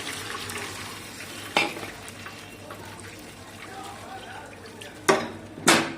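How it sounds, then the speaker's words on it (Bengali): Water poured into half-fried vegetables in a pan, with bursts of sizzle and sputter as it hits the hot pan, loud and near, plus a few clinks of utensils over background frying. "এগুলো আধ ভাজা হয়ে গেছে,"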